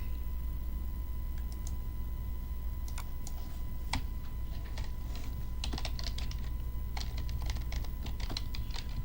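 Keys on a computer keyboard clatter in short irregular bursts, close and moderately loud, over a constant background hum, with no speech.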